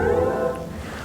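Synthetic chime of the BMW iX startup sound designed by Hans Zimmer, a sustained layered tonal swell that fades over about a second, heard close inside the cabin with no talking.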